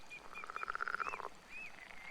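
Frogs croak beside a riverbank in the Roadwarden video game, a rapid run of pulsed croaks with a few higher chirping calls after it, moderately loud and heard alone.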